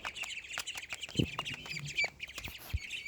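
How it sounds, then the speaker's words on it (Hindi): Baby ducks making a racket at feeding time with dried mealworms, a busy close stream of high peeping and chirping calls. "ये है मेरे बेबी डक्स एंड ये बहुत ज़्यादा हल्ला मचाते हैं।"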